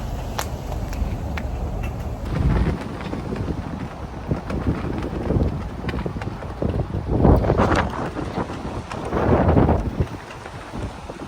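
Cold, gusty wind blowing outdoors beside a truck under roadside repair, rumbling and buffeting the microphone in loud, uneven surges that swell and fade throughout.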